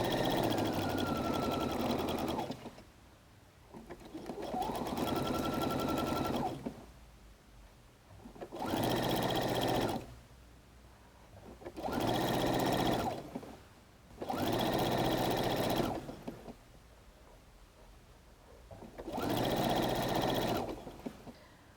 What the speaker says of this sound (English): Just keep sewing down.